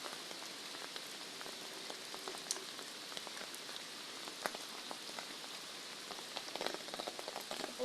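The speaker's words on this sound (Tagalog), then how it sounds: "Sana ay huminto na yung ulan natin para hindi na masira yung ating mga pananim." Rain falls steadily on a vegetable garden, a dense close patter of drops with scattered sharper taps, continuous and even with no voices.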